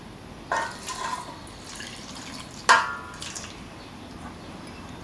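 A glass of water is poured into a pot of meat for Moroccan mrouzia, with two short splashing bursts against quiet drips and faint kitchen background.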